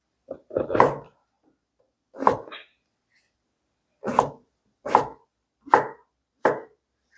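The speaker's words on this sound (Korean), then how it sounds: "새송이도 곤약하고 크기가 비슷하게 자르면 됩니다" King oyster mushrooms cut with a knife on a board, six separate crisp chops spaced about a second apart, close and clear against a quiet background.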